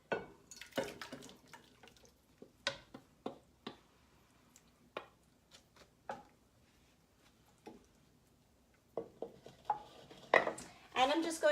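In a home kitchen, sauce is poured into a hamburger casserole dish, with scattered light clinks of utensils and dishes before a closer burst of pouring and scraping near the end, heard quietly without talk.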